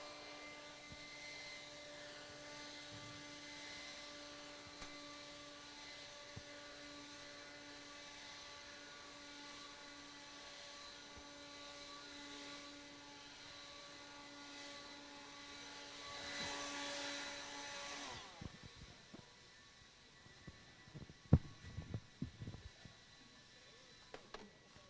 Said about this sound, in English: Marshals, grab your blower. Start blowing off the track.